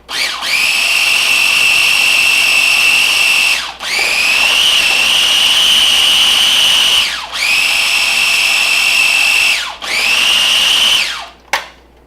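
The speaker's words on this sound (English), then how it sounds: "Now we're going to blend it up again. And I do the chop and the grind in this little mini prep." A small mini prep food processor whirs loudly in several sustained high-pitched bursts with brief pauses between, blending vegan chocolate mousse made with cacao, close and alone with no speech.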